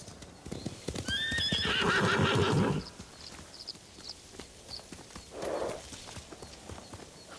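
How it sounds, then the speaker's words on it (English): In Ghost of Tsushima, a horse gives a loud, close neigh over rapid hoofbeats, then its trotting clip-clop continues more softly with a snort partway through. "Horse!"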